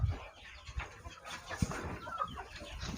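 Hens cluck softly in a poultry shed, a faint, scattered chorus of farm birds with no one speaking.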